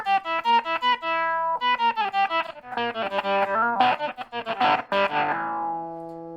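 An instrument runs through a Microsynth synth effect pedal, giving fast choppy synth-like notes that turn buzzy and distorted toward the end, then a sustained tone fading out, with no voices.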